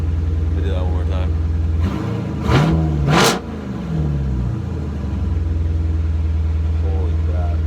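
A Chevrolet Corvette Grand Sport with a full exhaust revs hard twice at an auction, the engine note rising in sharp surges over a loud idle, with someone talking before and after.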